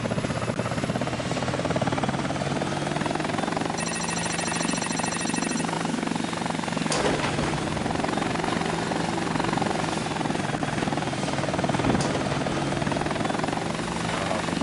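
Hind attack helicopter in the game Air Missions: Hind, its rotor and engine drone loud and steady throughout, with a thin whine layered on top for a couple of seconds partway through.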